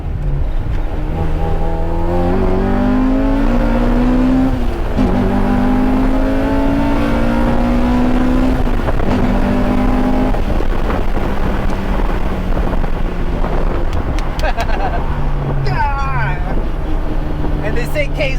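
A 1992 Honda Accord LX engine revs up and down in long rising sweeps, loud and close amid steady wind and road noise, with people talking over it.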